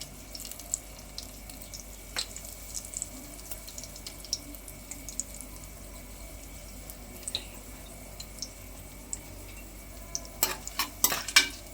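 Dried red chilli pieces frying on a low flame for tomato rice, a faint, steady crackle and hiss with occasional clinks, growing busier toward the end, no talk.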